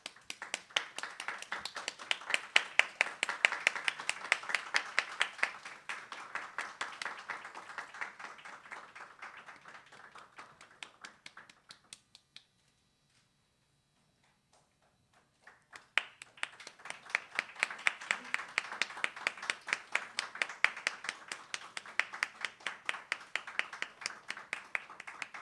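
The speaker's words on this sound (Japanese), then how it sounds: "皆さん拍手でお迎えください。" An audience at a DREAM.11 mixed martial arts press conference claps in steady, rhythmic applause that fades out, falls silent for a few seconds, then resumes just as strongly and continues to the end.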